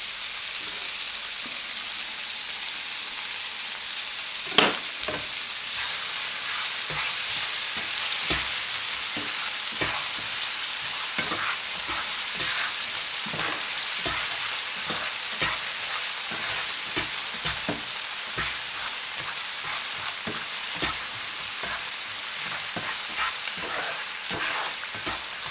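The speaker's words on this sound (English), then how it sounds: "adding the chopped onions. Just gonna soften this up" Chopped onions fry steadily in a hot pan for Spanish meatballs in tomato sauce: a continuous close, bright sizzle with frequent small pops and occasional scraping clicks from stirring, with no talking.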